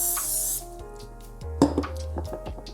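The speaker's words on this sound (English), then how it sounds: "So just a little spray." Cooking spray hisses in a short steady burst onto a warm pan for a quiet cheese quesadilla, followed by faint clinks and small kitchen sounds.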